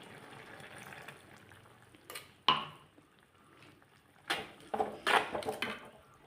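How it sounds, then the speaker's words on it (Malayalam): Tamarind water poured into cooked vegetables for a Kerala onion-flower theeyal, heard as a few short splashing pours and liquid gurgles between quiet stretches, close and moderately loud. "വെന്ത് വന്ന വെജിറ്റബിൾസിലിട്ട് നമുക്ക് കുറച്ച് പുളിവെള്ളം ഒഴിക്കാം"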